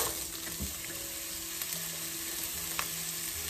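Vegetables for a gluten-free beef lo mein stir-frying in a hot pan, a steady loud sizzle and crackle running throughout with faint stirring scrapes.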